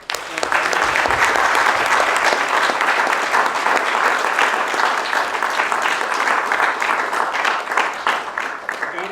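Loud, continuous applause from a crowd at a Japanese-language talk, dense clapping holding steady for about nine seconds and tapering slightly at the end.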